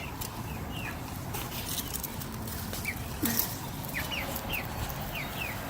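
Chickens loose in a vegetable garden, pecking at the plants, giving soft scattered chirps and short clucks at a moderate distance against steady outdoor background noise, with no talking.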